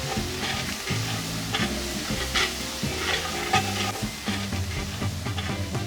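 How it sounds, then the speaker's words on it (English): Mushrooms frying in duck fat and brown butter in a pot, a steady loud sizzle with repeated scraping stirs throughout, close up and without talk. "And add your mushrooms into the fat in your pot."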